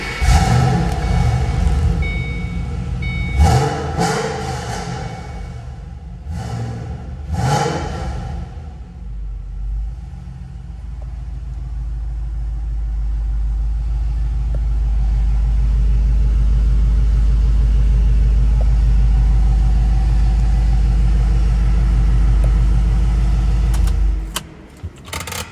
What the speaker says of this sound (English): When we're talking about the exhaust, I'm just going to let it talk for itself.